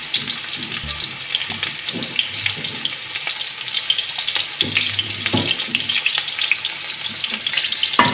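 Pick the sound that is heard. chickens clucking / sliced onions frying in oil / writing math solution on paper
sliced onions frying in oil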